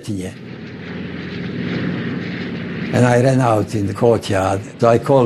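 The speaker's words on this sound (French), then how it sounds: "J'ai entendu le vrombissement d'avion qui approchait de mon village." A low droning aircraft engine rumbles for a few seconds, then a person speaks over it.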